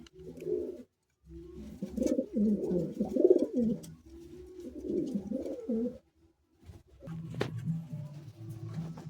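Madrasi high-flying pigeons coo in a loft, several low rolling coos coming in close bursts separated by brief pauses, fairly near and moderately loud.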